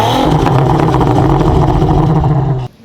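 A tuned all-wheel-drive car with an upgraded tune gives a loud, close, deep exhaust growl with burbling pulses for a few seconds before cutting off sharply.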